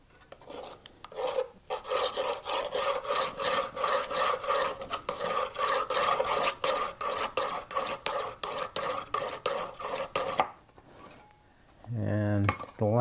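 A metal file rasps across a card scraper blade in a steady run of rhythmic strokes for about ten seconds, close and fairly loud, before it stops and a few clicks and handling sounds follow.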